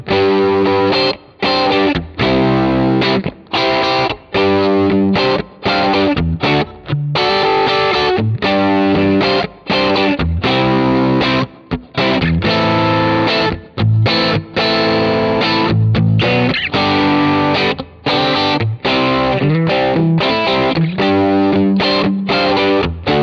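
Overdriven electric guitar through a BOSS OD-20 overdrive pedal, with chunky distorted riffs and chords chopped by short rhythmic gaps, loud and up close with no talking.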